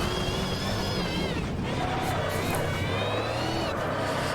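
A car drifting in a racing simulator played on a direct drive wheel, with a steady engine drone and sliding tyre whine that runs throughout and rises and falls in pitch, loud and continuous with no talking.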